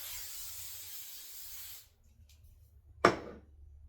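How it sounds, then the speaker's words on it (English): Hairspray from an aerosol can hisses onto hair in a sustained spray of almost two seconds. After a short pause comes one sharp clack, likely the can being set down. "That's my spray."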